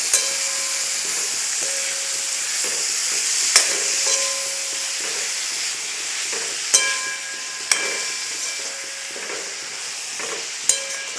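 Bhaji vegetables (tandjaa greens) sizzle and fry steadily in a pan, with a constant hiss broken by a few sharp clicks of a spatula stirring them; no voices.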